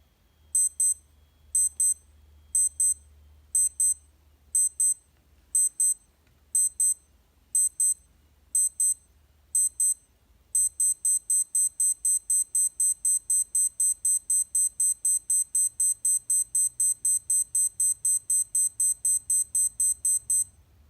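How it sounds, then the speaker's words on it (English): A Timex Ironman T5K195 digital watch alarm beeps loud and close, first in short evenly spaced bursts of rapid chirps, then switching to a fast continuous run of beeps with no talking. "Just like most Timex watches, the alarm is nice and loud."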